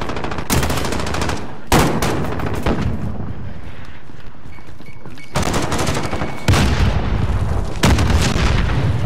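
Heavy gunfire and a C4 blast in Call of Duty: Modern Warfare, loud close bursts of automatic fire repeating in clusters with booming impacts, dense and continuous throughout.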